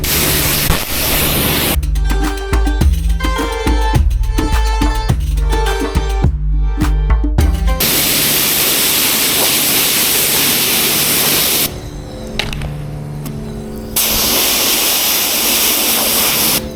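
A motorcycle being washed with a water spray: steady broadband hiss of spraying water runs through most of the stretch, with intermittent clattering and knocking in the first half and a brief quieter gap near the end.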